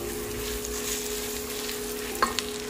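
Slit green chillies dropped into hot oil with spices and fried ginger-garlic paste for masala pulao, giving a steady low sizzle with a couple of brief stirring clinks near the end.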